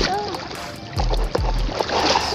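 Splashing in warm sea water at an early-morning beach swim, a few short sloshing bursts and churning water close to the microphone, with faint voices in the background.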